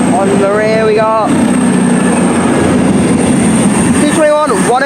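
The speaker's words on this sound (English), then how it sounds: "Pendolino also arriving." A Pendolino electric train in Business is Great livery pulls into a station at Stockport or Birmingham International with a steady loud rumble and a high whine, while voices talk over the start and end.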